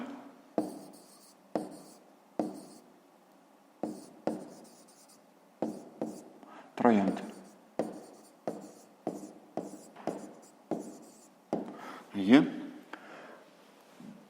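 Pen writing by hand on paper while solving a fifth-grade maths exercise: repeated short scratchy strokes in quick bursts with brief pauses, close and fairly quiet, alongside a speaking voice.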